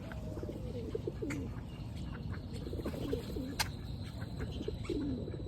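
Pigeons coo in low rolling calls over a steady outdoor hum while being fed, with a few sharp chirps and ticks scattered on top.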